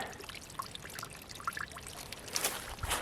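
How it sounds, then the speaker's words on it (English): Small waterfall trickling and pouring into a water-carved hollow beneath a tree root in a woodland creek, a steady close splashing with brighter spatters toward the end. "the water has started to hollow out around the edge. Created waterfall down in there."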